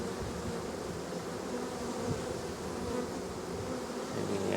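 Honey bees buzzing densely around a crowded beehive nuc that may be about to swarm, a steady close-up drone filling the air without pause.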